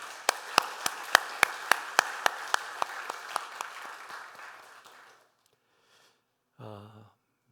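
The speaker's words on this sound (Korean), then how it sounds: "우리 큰 격려의 박수 한번 드리겠습니다." A church congregation claps together in a strong, even rhythm, about a dozen sharp beats over a softer wash of applause. The clapping fades out after about five seconds, and a short voice follows after a pause.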